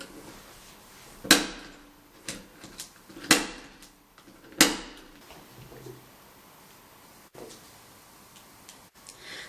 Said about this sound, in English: I'm using an 1/8" rivet setter, and I'm going to push down on the handle 3 times.